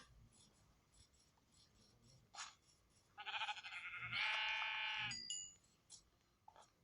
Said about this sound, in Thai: เขาเจอแกะสองตัว เออเขาทำนะ